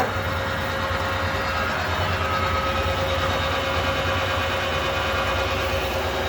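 Harrison M390 geared head gap bed engine lathe running at 625 RPM, giving a steady, loud mechanical hum and whir with a constant gear whine and no breaks or voices throughout.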